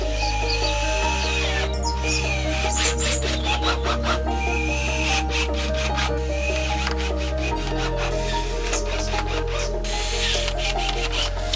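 A hand saw cuts through the end section of a gutter on a cottage renovation, with steady rhythmic strokes close up, partly under a loud continuous background of music-like tones.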